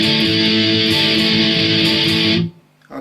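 A loud electric guitar plays the intro of a song as one sustained, dense strummed chord that rings for about two and a half seconds. It is then cut off abruptly, leaving a brief faint string sound.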